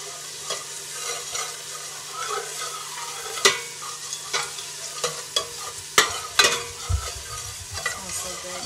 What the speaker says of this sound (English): you got to keep stirring this over and over because you don't want it to caramelize